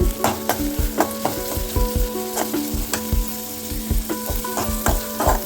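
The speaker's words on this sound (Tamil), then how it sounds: "பொடியாக நறுக்கிட்டு இந்த எண்ணெயில் போட்டு வதக்கிடணும்." Finely chopped onion sizzles and fries in hot oil in a pan, a steady close crackle broken by regular stirring scrapes, with no talking.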